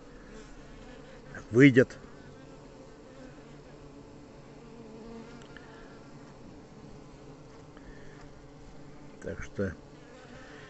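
Bees hum around a hive after driving out their queen, a low faint continuous drone, with someone speaking briefly in two short bursts near the start and end.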